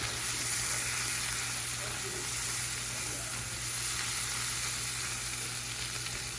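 Asparagus sautés in a pan with lemon butter, giving a loud, dense, unbroken sizzle throughout with faint stirring beneath.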